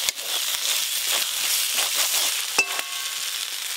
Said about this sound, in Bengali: সব বাটা মশলা ভালো করে ভাজা হয়ে গেছে